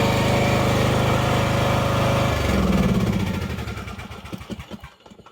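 A Husqvarna LTH 18538 riding lawn mower engine runs loud and steady, then drops off and sputters with uneven, choppy pulses as it winds down to near silence.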